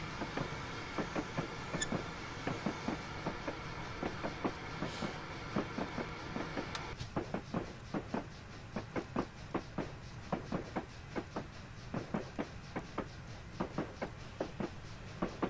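A GWR 14xx steam locomotive in Train Simulator 2016 chuffing with cylinder cocks open, a sharp, regular rhythm of loud exhaust beats and hissing steam, steady and close.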